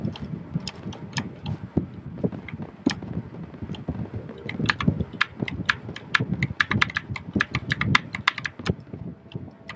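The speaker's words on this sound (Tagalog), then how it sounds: "Ang problema ko lang talaga dito sa aking keyboard." Computer keyboard keys are pressed rapidly while playing Minecraft Hive Bedwars, giving dense, irregular close-up clicking and clattering throughout with no speech.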